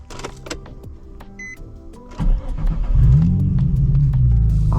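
Engine of a 2006 Nissan 350z with a muffler delete cranks to life after a few clicks, then settles into a loud, steady throaty idle close by.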